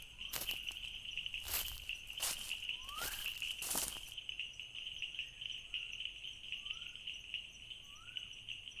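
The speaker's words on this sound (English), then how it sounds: "That's one male bush frog displaying." A male bush frog calls in a forest, giving short rising chirps repeated at a steady pace against a constant insect drone, with a few rustling footsteps early on.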